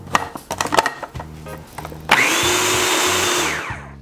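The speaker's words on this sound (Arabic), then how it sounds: "نسد عليها ونخفق مرة ثانية" An electric hand mixer whisks cake batter after vegetable oil has been poured in, starting with several clunks and taps before a steady, loud whirring hum runs on for about two seconds and then winds down.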